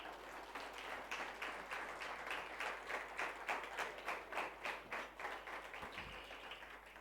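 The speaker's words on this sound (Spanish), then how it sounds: "Dale un fuerte aplauso al Señor." A church congregation claps steadily for several seconds, a dense rhythmic applause at moderate distance with a faint thump near the end.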